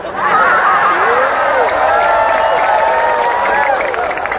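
Crowd at a Banyuwangi regency anniversary event breaking into cheering and applause during an Islamic comedic sermon, a steady loud wash of many voices with whoops and shouts, continuous throughout with no single voice standing out.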